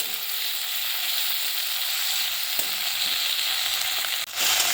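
Chopped tomato and four green chillies frying in a pan, a loud steady close sizzle with a brief stirring knock near the end.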